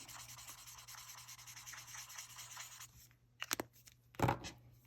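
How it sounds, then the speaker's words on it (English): Colored pencils rubbing on paper while coloring over alcohol marker work, a soft steady scratchy shading close up, then a pause and a few brief scrapes. "I can bring my pencils in to kind of make things a little smoother"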